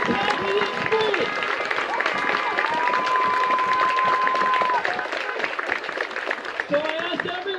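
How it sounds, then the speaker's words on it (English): A crowd at a BLM march claps and cheers in a continuous wash of applause, with voices and scattered calls running through it and a sustained tone rising briefly in the middle. "give her a round of applause"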